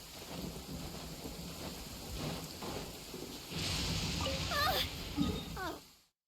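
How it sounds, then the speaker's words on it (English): Rain pours steadily in the Genshin Impact game world while thunder rumbles low, the downpour swelling louder partway through, with voices and faint tonal game sounds mixed in. "It's raining again."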